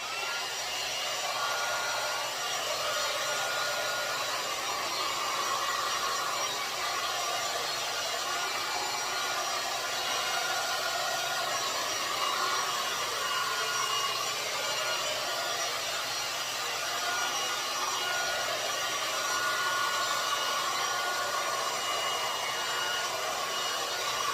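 A steady, close blowing hum of a hair dryer drying a Dutch pour of mica paint runs without pause for the whole stretch, with no voices.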